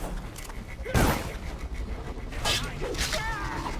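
Gunfire in the video game Dishonored, a loud burst of shots followed by further bangs and mechanical creaks, with a voice calling out briefly.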